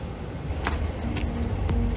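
The Sightseer tour bus in Innsbruck, Austria, makes a close, steady engine rumble that rises slightly toward the end, with no talk.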